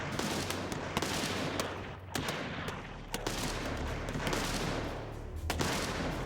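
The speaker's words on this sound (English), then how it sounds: "The marshals are completely taken by surprise as the outlaws open fire from the stables." Rapid, overlapping gunshots crack through a Wild West shootout as outlaws open fire on marshals from the stables, with sharp reports repeating over a steady low rumble.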